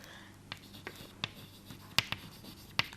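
Pen or marker scratching on a board in short scattered strokes with sharp taps, close but faint, spaced irregularly over a low quiet background.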